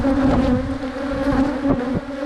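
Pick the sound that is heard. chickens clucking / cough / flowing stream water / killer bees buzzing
killer bees buzzing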